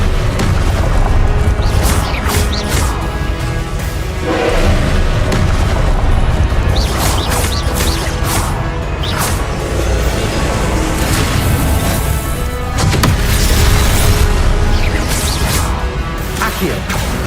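Confringo blast spells in Hogwarts Legacy burst in a dense, loud barrage of booms and crashes, one impact after another over thick game noise, with a voice talking in between.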